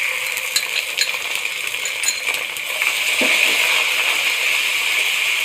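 Chopped onion frying in an oil-filled pan while being cooked to light brown, a steady close sizzle with scattered clinks of a spoon stirring against the metal.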